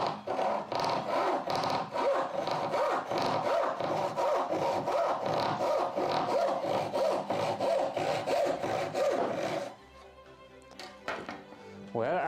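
Steady back-and-forth strokes of a hand saw cutting wood along a marked line, loud and close with a rapid even rhythm for about ten seconds, then stopping abruptly and leaving quieter rustling and handling.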